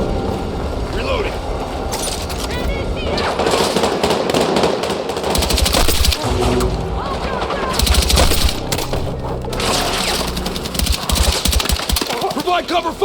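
Dense, loud gunfire from a Battlefield 6 night raid mission, rapid bursts and crackling shots overlapping continuously with explosions, while soldiers shout commands over the din.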